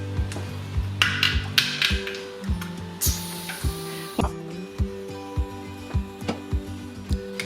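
Metal bands being unscrewed from cooled glass canning jars of home-canned chili beans, a series of sharp ratcheting metallic clicks and scrapes in irregular bursts, close and fairly loud with no talking.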